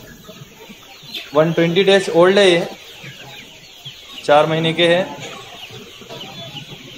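Desi country chickens about four months old on a farm cluck loudly in two close bursts, with someone talking in Hindi between and under the calls.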